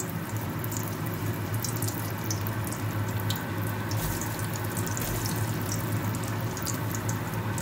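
Potatoes fry in hot oil in a small wok over a low flame, making a steady, dense sizzle and crackle that holds close and even throughout, with no talk.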